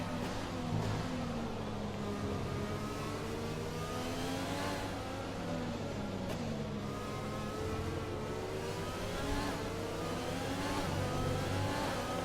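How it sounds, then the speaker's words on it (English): A high-pitched McLaren Formula 1 engine in the F1 2020 video game whines continuously during a wet British Grand Prix, its pitch rising and falling through gear changes, loud and steady with no talking. "Listen to that McLaren engine."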